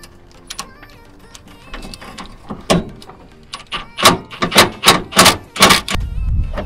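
A 10 millimeter socket loosens screws during a radiator, thermostat and serpentine belt replacement, heard as a series of close, sharp ratcheting clicks in quickening bursts.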